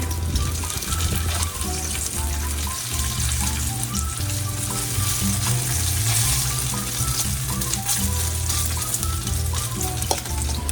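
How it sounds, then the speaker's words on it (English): Bacon sizzles and crackles steadily in a frying pan during breakfast cooking, a loud continuous fry with small pops throughout and no talking. "I do have to wait for this bacon to cook"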